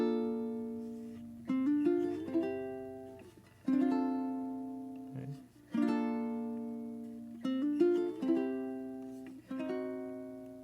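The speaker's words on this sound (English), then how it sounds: "how I took a riff on the ukulele" A ukulele plays a plucked riff of ringing notes and chords in repeated phrases, each attack decaying gently, close and clear with nothing else heard.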